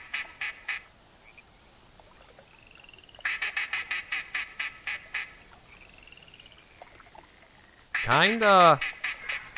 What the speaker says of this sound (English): Is that a lone duck?